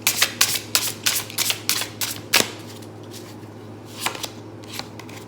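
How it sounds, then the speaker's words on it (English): Tarot cards are shuffled in quick riffling bursts, several rapid flutters in a row, then a pause and a couple more close, crisp shuffles. "I'm shuffling the cards on camera."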